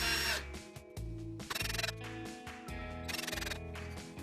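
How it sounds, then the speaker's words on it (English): A small electric drill buzzes in repeated short bursts, revving up and down as it bores pilot holes into plywood, close and loud with no talking. "I'm just using a small drill to get these pilot holes started in the ply."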